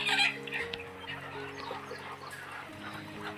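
Native village chickens cluck near the start on a farm setup, with steady background hum from the yard during a rainy spell.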